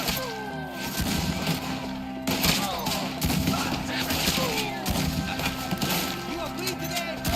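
Rapid, repeated gunfire crackles through a Red Dead Redemption 2 shootout in a wooded area, sharp shots and impacts scattered under shouting voices.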